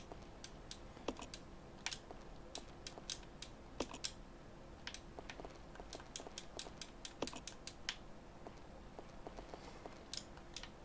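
Rapid clattering keystrokes from a typewriter at a save point in the Resident Evil video game, irregular quick taps over a faint background hum.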